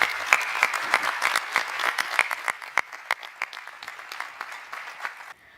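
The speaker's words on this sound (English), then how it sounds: "a round of applause for this panel" A summit audience applauds a panel, with individual claps standing out sharply over a crowd's clapping that thins and fades before stopping abruptly near the end.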